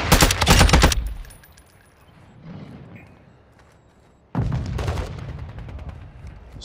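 Loud bursts of rapid automatic gunfire in a video game, a dense volley at the start, a fainter stretch, then another sustained burst near the end, close and without talk.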